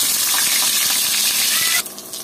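Dried loitta fish fries in hot oil in a wok: a loud, close, steady sizzling hiss that suddenly drops to a quieter crackle near the end.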